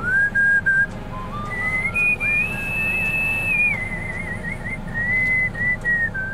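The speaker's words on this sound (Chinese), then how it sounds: "你口哨吹得好好哦" A person whistles a steady melodic tune, sustained notes gliding up and down with brief pauses, loud and close over a low background hum with no talking.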